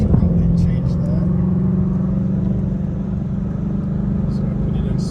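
A 2020 Ford Mustang Shelby GT500 in loud exhaust mode idles with a deep, steady exhaust rumble throughout, loud and close, with a brief rev at the start.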